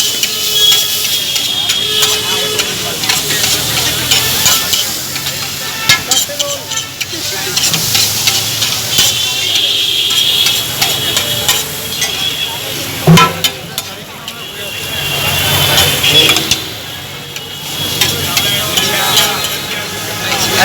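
At a Kolkata street stall, veg fried rice with cottage cheese is stir-fried in a steady, continuous sizzle, with metal clinks and scraping throughout. Someone talks over the cooking.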